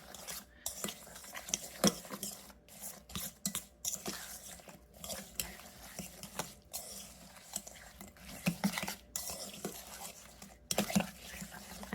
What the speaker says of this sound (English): Let me whisk this filling a little bit more.